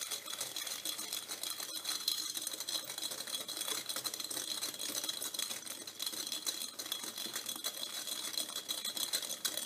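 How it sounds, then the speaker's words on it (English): Egg is whisked with sugar and a pinch of salt in a bowl, making a steady, fast metallic rattle and clatter that runs unbroken and close with no talking. "we're gonna whisk it really well"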